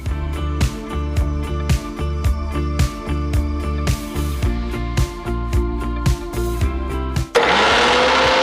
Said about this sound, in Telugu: ఇప్పుడు దీన్ని మిక్సీ పట్టేద్దాం.